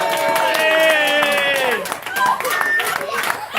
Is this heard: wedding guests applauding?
yes